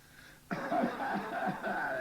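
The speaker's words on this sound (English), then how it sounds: "Same old cough what I had." A rough, drawn-out coughing fit starts abruptly and continues in rasping, wheezy bursts, close and fairly quiet, with a steady hum underneath.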